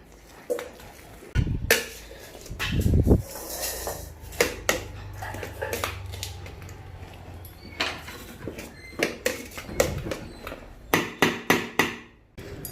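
Onion vadagam batter gets mixed in a metal vessel with irregular knocks, scrapes and clanks, ending in a run of quick rhythmic taps, and a few faint words are spoken.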